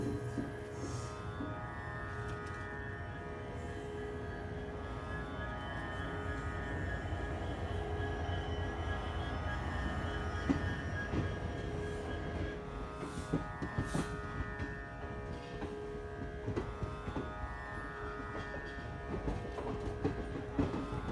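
An Indian passenger train travels on rails between Saharanpur, Roorkee and Haridwar, giving a steady, loud rumble with rolling wheel noise and brief squeals and clatter throughout, heard from inside the carriage with no talking.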